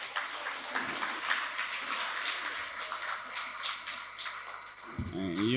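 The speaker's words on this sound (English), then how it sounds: "All y'all in here, give them a round of applause" Applause at a reading clinic closing ceremony: a dense crowd clapping rattles steadily for several seconds, fairly loud and indoors, before a voice begins speaking at the end.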